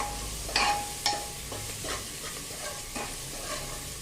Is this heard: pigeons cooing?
no